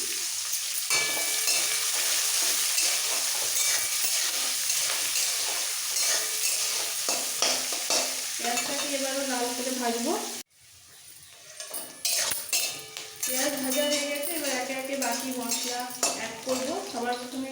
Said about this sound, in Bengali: ফোড়নটা ভাজা হয়ে গেলে দিয়ে দেবো পেঁয়াজ কুচি